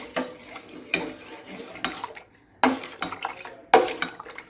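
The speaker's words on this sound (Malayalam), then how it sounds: "ഇനി നമ്മൾ കൈയെടുക്കാതെ ഒന്ന് മിക്സ് ചെയ്ത് കൊടുക്കണം" Custard powder mixture being stirred for bread pudding, a spoon scraping and knocking against the pan in several separate bursts with short pauses between them, close and fairly quiet.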